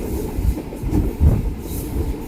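Green Line passenger train between Lahore and Karachi, running near Pattoki Junction, giving a steady, close rumble of wheels on rails with soft rhythmic thumps throughout.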